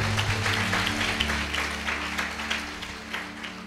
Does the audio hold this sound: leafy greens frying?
no